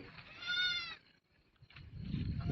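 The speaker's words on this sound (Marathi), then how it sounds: "ही 4 पिल्ल्याची शेळी." A goat, a mother of four kids, gives one loud, wavering bleat up close on a farm, followed by quieter shuffling and low rustling sounds.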